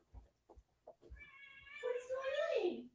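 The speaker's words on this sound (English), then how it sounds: "That's my cat." A house cat meows, starting with a long, rising and falling cry that follows a few soft knocks and handling sounds nearby.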